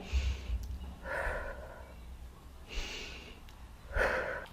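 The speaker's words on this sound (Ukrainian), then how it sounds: "Саме так буде відбуватися дихання під час виконання вправи як у присідання." During an exercise demonstration of squat breathing, a person takes sharp, audible breaths through the nose and mouth, alternating quick inhales and forceful exhales in a steady rhythm, close and quiet with no talk.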